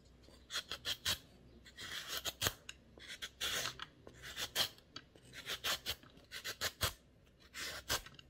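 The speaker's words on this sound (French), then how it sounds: "Maintenant, je vais éplucher les carottes, râper les carottes." Carrots being peeled and grated, heard as close, rapid scraping rasps grouped in rhythmic bursts with short gaps between them, quiet overall, with no speech.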